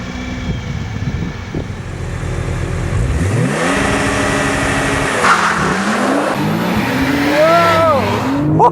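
Porsche 911 Turbo S in Sport Plus doing a launch from a standstill: engine revs held against the brake, then a loud surging acceleration climbing through rising gear pulls, close and continuous.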